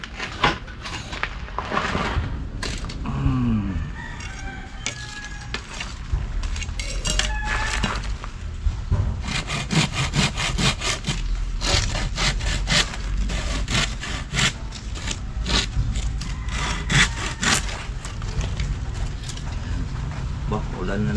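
A hand saw cuts through wood in steady back-and-forth strokes, loud and close, with occasional clinks and voices talking in the background.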